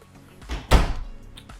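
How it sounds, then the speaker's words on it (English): A linen drawer door in a house closet bumping open or shut, one close solid thunk with a short wooden rattle after it, heard alone. "We do have a linen drawer right here as well."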